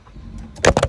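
A car engine cranks and catches, a few loud bursts of engine noise close by, coming after a quieter stretch of faint rustling and handling noise.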